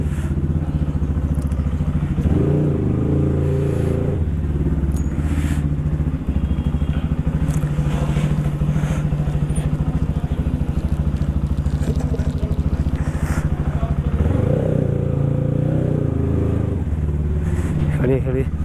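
A 2016 TVS Apache motorcycle, first-owner, sits idling with a steady low engine rumble throughout, swelling slightly a couple of times, while people talk nearby.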